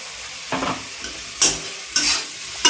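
Jackfruit curry with tamarind paste being stirred in a frying pan, with a low sizzle under four separate scraping strokes of the spoon, spaced about half a second to a second apart.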